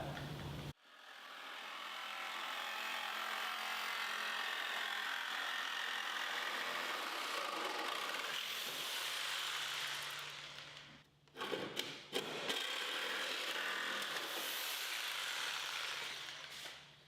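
A Sawzall reciprocating saw cuts through the sheet metal of a 1959 VW Beetle under restoration with a long, steady buzzing rasp. It pauses briefly with a few clanks, then the same grinding cut continues, with no voices.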